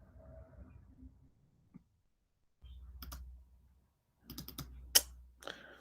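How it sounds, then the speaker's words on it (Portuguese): Computer keyboard typing while entering a note in a document, heard as two quick clustered bursts of clicking keystrokes after a soft low rumble, fairly close and quiet, with gaps of near silence between. "Deixa eu digitar aqui observação"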